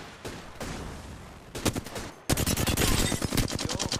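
Rapid automatic gunfire in Apex Legends: a few scattered shots, a short burst, then a long, loud, close stream of rounds in a fast, steady rhythm.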